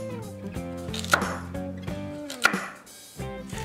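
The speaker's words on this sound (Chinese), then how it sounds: "胡萝卜呢，切成小块就可以了。" A knife cuts carrots into small pieces on a cutting board, with several sharp, close chops spaced irregularly and two louder knocks standing out, heard over soft background music and no talking.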